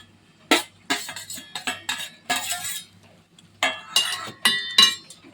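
Garam masala, turmeric, chili powder and coriander powder stirred into a paste for chicken biryani, a spoon repeatedly scraping and clinking against a bowl in irregular bursts, close by.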